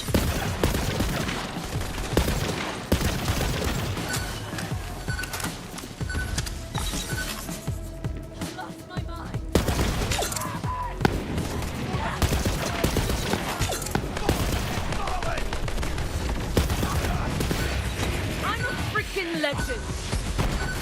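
Cartel thugs fire guns throughout a Borderlands 3 video game firefight, dense rapid gunfire bursts and clinking impacts running loud and nearly continuous, with voices talking over the shooting.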